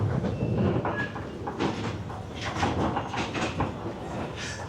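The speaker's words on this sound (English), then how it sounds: "So instead, we decided on the train ride" A passenger train rolls through Vietnam, its steady rumble and rattling wheels filling the carriage at a constant moderate level, with faint clacks and door-like clunks and no speech.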